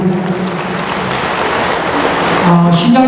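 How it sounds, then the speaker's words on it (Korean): A crowd in an indoor gymnasium claps loudly and continuously at a veterans' event, dense, even applause filling the space, with a voice starting over it at the end. "여러분 큰 박수로 환영해 주시길"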